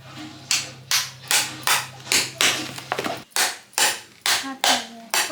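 Repeated hammer blows crack the thick, hard shell of a bael fruit being broken apart for village-style murabba, about a dozen sharp knocks in a steady rhythm, close and loud, with a brief pause midway.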